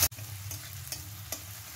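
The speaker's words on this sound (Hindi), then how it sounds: "और अब मैं जो मिक्सी में पीस करके रखी थी आदी और मिर्चा का पेस्ट फ्रेंड, तो मैं अब इस तेल में डालूंगी" Ginger and chili paste dropped into hot oil in a pan, a sudden loud sizzle that settles into steady frying hiss with a few soft stirring scrapes, close up and without speech.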